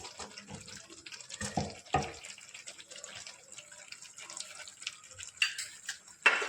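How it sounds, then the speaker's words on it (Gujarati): Water pours and splashes into a pot of mixed vegetable Punjabi curry in uneven bursts, with clinks and drips between, close by. "જો મેં અડધી વાટકી જેટલું પાણી નાખ્યું છે"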